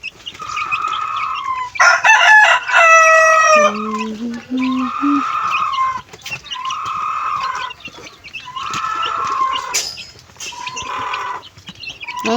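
Pet chickens cluck in repeated bursts while a rooster crows loudly once, close by, with steady clucking continuing through to the end; no talking is heard.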